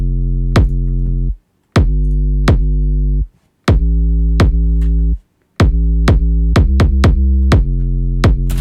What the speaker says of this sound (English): The 808 is just a basic 808 sample,